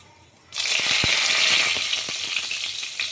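Whole spices and a bay leaf hit hot oil with a sudden loud sizzle that stays strong and steady, with a few crackles and pops, following a brief quiet moment.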